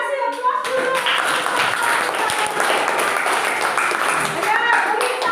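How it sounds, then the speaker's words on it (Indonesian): Children in a fifth-grade classroom clap together in a steady, dense burst of applause that lasts several seconds, with voices mixed in. "Oke, kasih aplaus dulu."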